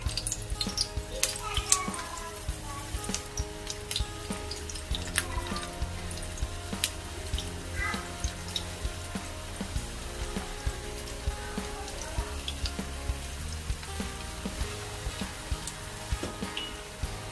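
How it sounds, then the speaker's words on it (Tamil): Eggplant pieces frying in hot oil give a steady, close crackling sizzle with scattered pops for the whole stretch. "இப்போ நான் எங்களோட கத்திரிக்காய் போட்டு பொரிச்சு கொள்ள போகிறேன்."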